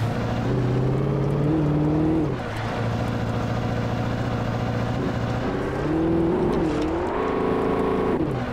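A car engine in the video game Alan Wake hums steadily at close range, its pitch rising and falling twice as it accelerates, with no voices over it.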